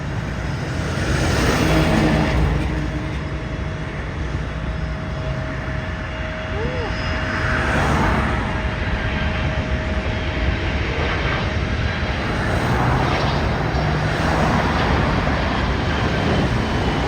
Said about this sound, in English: here comes a plane that will be landing on the runway